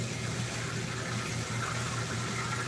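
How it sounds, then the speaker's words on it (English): Water bubbles and churns in a pot on the stove while empanadas are cooked for a tailgate party, a steady close simmer with a low rumbling hum underneath and no talking. "I heard it bubbling."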